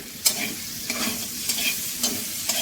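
Cauliflower florets fry in a pan with a steady sizzle and a regular series of about five spatula scrapes or taps, close and moderately loud.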